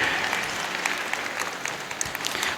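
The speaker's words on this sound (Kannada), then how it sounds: "BVR ಶಿಕ್ಷಣ ಸಂಸ್ಥೆಗೆ ಮೊದಲು ಜೋರಾದ ಚಪ್ಪಾಳೆಯೊಂದಿಗೆ ಅಭಿನಂದಿಸಬೇಕು" Loud applause from an audience at a school's 23rd annual day celebration for BVR school, many hands clapping densely and continuously from start to end, with a few sharper claps standing out and no talk on top.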